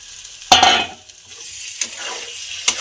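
Fried potato and pointed gourd stirred into sizzling masala for a prawn and pointed gourd curry, giving a loud scraping burst of frying followed by a few fainter stirs and one sharp scrape near the end.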